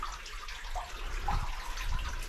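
Someone wades through knee-deep water in a muddy cave, soft sloshing and splashing close by against a low, steady background hum.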